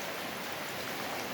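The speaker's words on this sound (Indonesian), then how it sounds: "Untuk saat ini hujan masih berlangsung dari tadi pagi sampai sekarang." Steady rain pouring down during a flood in Lhokseumawe, an even, dense hiss of falling water with no pauses, moderately loud and close, no voices.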